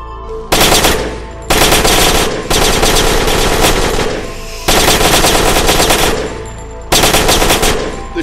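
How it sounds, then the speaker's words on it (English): Rapid automatic gunfire from a gun in the video game Genocide Dolphins rattles out in four loud, sustained bursts separated by short pauses. "This gun is quite crazy"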